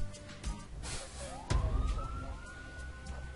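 A video game police car siren, from Criminal Case, rises and holds a single wailing tone, somewhat distant, over a low rumble with a thump.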